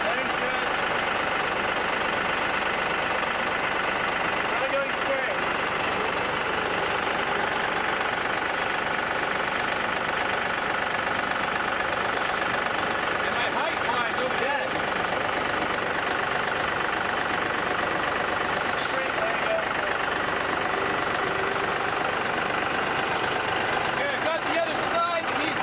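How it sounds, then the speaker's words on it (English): A tractor engine idles continuously at close range with a steady, rumbling, knocking drone, unchanging throughout with no breaks. "I'm just aligning my tractor, and now it's coming up"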